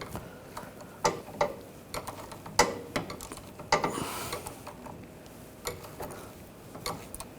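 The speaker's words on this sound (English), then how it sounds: "I'm going to use an 18mm ratchet wrench" An 18mm ratchet wrench tightens the nut on a front sway bar link of a 2009-2017 Volkswagen Tiguan, giving close, irregular bursts of sharp mechanical clicks with short pauses between strokes.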